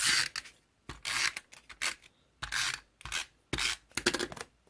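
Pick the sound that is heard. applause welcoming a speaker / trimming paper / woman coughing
trimming paper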